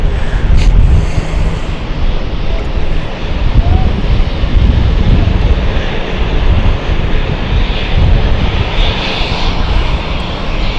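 Propeller planes at an airport, likely London City, give a steady, loud engine drone and broadband roar that fills the whole stretch without clear breaks.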